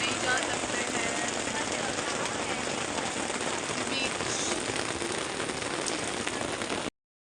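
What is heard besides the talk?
rain falling at a beach resort in Goa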